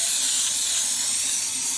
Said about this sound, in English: So I use throttle body cleaner this way here.